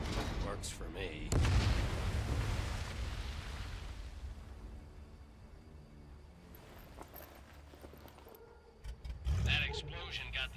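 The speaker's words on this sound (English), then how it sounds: "That explosion got the attention of all the German patrols in the area." A loud explosion booms in the Medal of Honor VR war game, a broad rumbling blast that swells and slowly fades over several seconds, with a second, smaller burst near the end.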